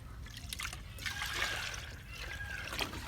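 Buttermilk (lassi) pouring into about ten litres of water, a soft close trickle and splash that runs continuously for a few seconds with no voices.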